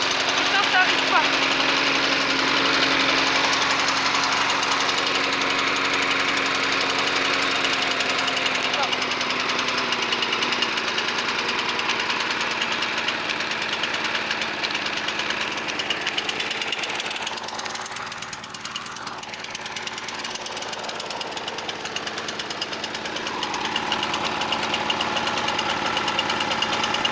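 A Notac lawnmower engine, thought to have a carburettor fault with fuel not getting through, runs steadily and loudly for most of the time, dips briefly as if faltering, then picks back up, with talk faintly underneath.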